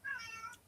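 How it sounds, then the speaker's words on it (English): A cat meows in a drawn-out, screechy call while trying to get out of a room, a single close and fairly loud cry heard alone. "That is the cat trying to get out."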